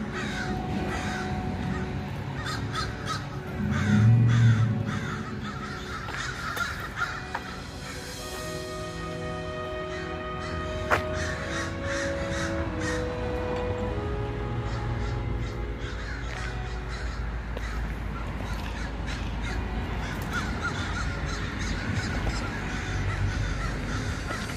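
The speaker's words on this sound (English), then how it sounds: "Those crows just add a totally eerie touch to the whole place." Crows caw around an abandoned hospital and insane asylum, harsh calls repeating throughout, some loud and near, others farther off, over steady background noise.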